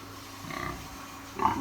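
A pig grunts softly at close range over a low steady background, with a slightly louder grunt near the end.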